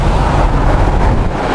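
Steady wind gusts buffet the microphone outdoors among farmland in rural Quebec, a loud continuous low rumble filling the whole stretch with no voices.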